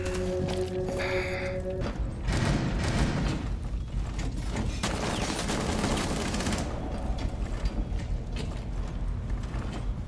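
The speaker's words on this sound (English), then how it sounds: "Like shooting me through the barricade." Gunfire in an online shooter video game, bursts of rapid shots punching through a barricade, loud and close with mechanical clatter mixed in.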